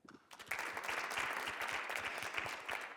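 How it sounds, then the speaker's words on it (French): An audience at a Paris debate event bursts into applause. A dense wash of clapping starts abruptly and holds steady for several seconds, with no talking over it. "vous êtes bons sur les applaudissements, vous êtes très bons"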